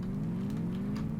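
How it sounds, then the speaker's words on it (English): Muscle car engine in the video game DayZ, revving with a steady low throaty drone that rises slightly in pitch, moderately quiet and unbroken, with no talk over it. "Let's give it a good rev."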